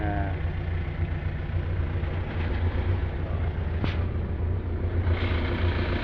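A car engine running after a treatment of Jet1 Extreme Engine Oil, a steady low idling rumble with a faint rhythmic pulse, fairly loud and even throughout, with a short tick near the middle.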